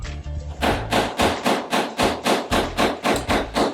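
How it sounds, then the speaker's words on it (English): Hammering while cabinets are installed during a renovation: steady, loud, evenly spaced blows, about a dozen in rapid rhythm, close by and heard alone. "who had the pleasure of listening to this hammering all night long"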